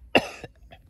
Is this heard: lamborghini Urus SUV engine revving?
no